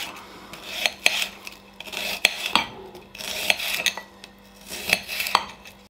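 A knife slices onions finely on a cutting board, repeated crisp chopping taps in a steady, slightly uneven rhythm with scraping between strokes, close and distinct with no voices.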